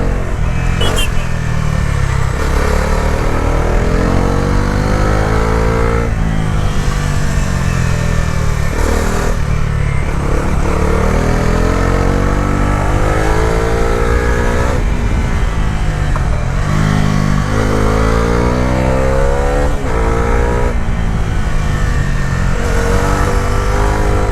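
A Bajaj Dominar 350 motorcycle is ridden on the road, its engine droning loudly and steadily with repeated rising and falling revs through gear changes, a rider talking over it.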